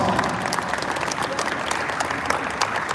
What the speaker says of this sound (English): Can we give these 3 U20 women players a round of applause?